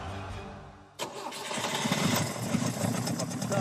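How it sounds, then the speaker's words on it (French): A Peugeot 204 engine cranks and catches inside a garage, then settles into a loud, rough, reverberant running rumble after a short quiet lead-in. "Le moteur crache et résonne dans tout le garage"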